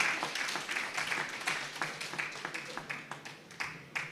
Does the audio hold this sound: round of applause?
yes